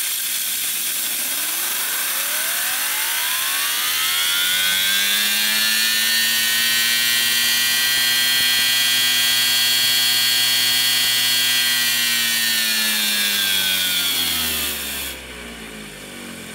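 A homemade steam turbine driven by compressed air at 40 psi spins up, its whirring tone rising steadily in pitch, holding a loud sustained whine with strong harmonics, then winding down near the end.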